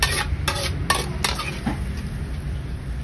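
Vegetables go into a pot on top of Filipino paksiw, with a few sharp clinks of a utensil against the pot over a low, steady simmering hiss.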